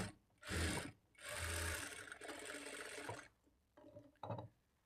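Electric sewing machine stitching a folded blouse shape belt, running in two sustained bursts with a steady whirring hum, then a few shorter start-stop runs near the end.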